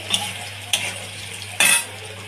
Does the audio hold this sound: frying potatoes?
yes